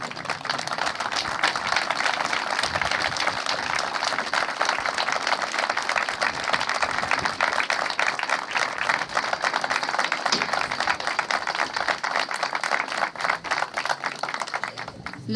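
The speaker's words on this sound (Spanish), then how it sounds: "las despedimos con un fuerte aplauso para dar continuidad al acto" Audience at an anniversary ceremony of a primary school in Estación Gil, Argentina, gives sustained applause, a crisp, busy patter of many hands clapping steadily for about fifteen seconds.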